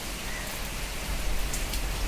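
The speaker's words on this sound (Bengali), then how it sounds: "হাওয়া দিচ্ছে আর তার মধ্যে বৃষ্টি হচ্ছে।" Rain falls steadily with wind blowing through it, a dense close hiss of drops on surfaces that grows a little louder toward the end.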